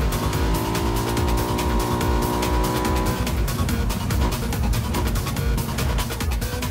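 Steady, loud engine drone of a motorcycle in PUBG, holding a rising tone and then shifting to a rougher roar after a few seconds, with no talk over it.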